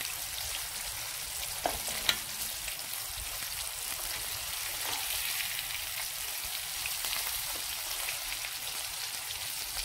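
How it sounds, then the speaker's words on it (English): Mackerel fries in a pan with a steady, soft sizzle and light crackle, faint and continuous, with a couple of small clicks early on. "Guys, this is a mackerel. It's still frying."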